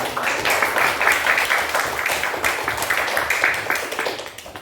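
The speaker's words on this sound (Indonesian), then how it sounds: "Tepuk tangan buat teman-teman semua" Classroom of students clapping for their classmates, a soft, fairly distant patter of many hands that is uneven and continuous, then tapering off at the end.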